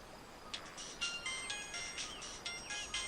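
A phone ringtone chirps in a quick, repeating electronic melody of bright bursts about every half second. It is moderately loud over a quiet background with no voices.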